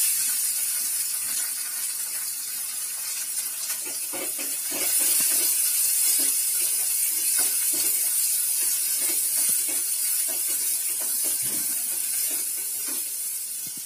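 Green chillies and chopped onion sauté in a pan for a potato masala, giving a steady, continuous sizzling hiss throughout with faint crackles and no talking.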